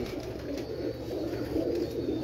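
Pigeons coo softly in low, steady murmurs on a rooftop in Gujranwala, faint and continuous under light ambient noise.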